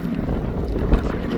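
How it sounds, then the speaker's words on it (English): Breeze gusting across an open-water sailboat racing course, a steady rushing wind buffeting the microphone with low rumble and a brief stronger gust, no voices. "Getting a little bit more breeze with some of these gusts up here"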